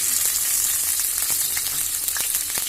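Tomato fries in oil along with fennel, pepper, cumin, garlic, curry leaves and fenugreek, producing a close, steady sizzle with small crackles and spatters scattered through it.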